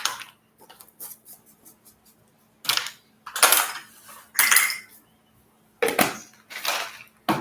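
Baking powder scooped with the smallest measuring spoon, levelled off and tipped into a bowl of dry mix for healthy cookies: several sharp scraping and tapping clatters in separate bursts, close and fairly loud, with quiet gaps between.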